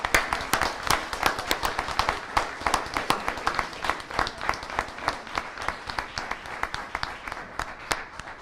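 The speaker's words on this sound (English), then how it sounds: "will you everybody give them a huge round of applause?" A school board meeting crowd gives sustained, fairly distant applause, with dense, even clapping that lasts throughout and no talking over it.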